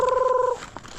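Chickens at a Philippine market give a short tonal cluck-like call in the first half, clear and fairly close, followed by a brief quieter stretch of faint scattered market noise.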